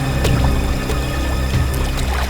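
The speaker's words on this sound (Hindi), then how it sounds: "सर इस तरफ से पानी के बहने की आवाज आ रही है।" Water rushing and trickling steadily somewhere nearby, a continuous watery wash with faint splashy details running throughout.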